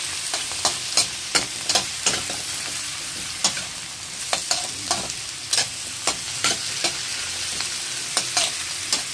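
Squash (kalabasa) is stirred into a simmering ginataan of shrimp and vegetables in coconut milk, with a ladle scraping the pan in repeated, evenly spaced strokes over a continuous close sizzle and no talking.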